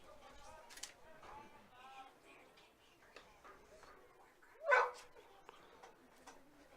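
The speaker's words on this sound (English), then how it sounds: "Now we have a dog in the ballpark chasing foul balls." A dog barks at a baseball ballpark, a few sharp barks and whimpers scattered among distant crowd noise, with one louder bark standing out near the end.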